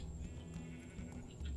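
A sheep's soft bleats rise faintly over a constant low rumble and hum in a farming video game, with no talking.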